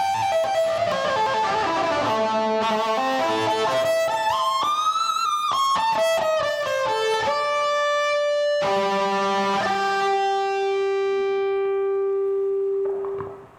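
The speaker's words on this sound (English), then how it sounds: "Like, you can add overdrive." An electric violin run through an overdrive effect plays a sustained, bright, harmonically rich melodic line with sliding pitches and held notes, loud and close, with no talking.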